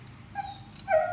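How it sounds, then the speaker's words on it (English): A neighbor's dog whimpers faintly in the background, giving two short high-pitched whines over low ambient noise. "That's not my dog, that's the neighbor's dog."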